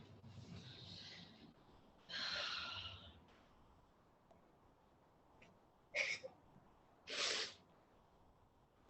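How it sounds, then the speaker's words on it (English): Sniffing and snorting from someone with a cold: a few short, breathy bursts, a longer snort near the start and two sharp nasal sniffs near the end, close and fairly quiet with gaps of near silence. "Sorry for all the snorting, sniffing and snorting."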